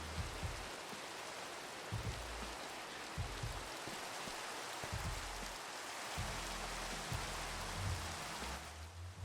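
Rain in the Minecraft video game falls as a steady hiss of patter with soft low thumps scattered throughout, heard alone without speech.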